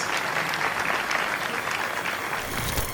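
Steady, dense applause from a school graduation audience welcoming the principal to the stage, loud and continuous throughout with no talk over it.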